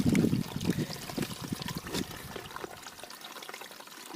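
Water trickling and splashing from a natural water source along a forest hiking trail in the Ouachita National Forest, a steady wet pouring sound close by that thins out toward the end.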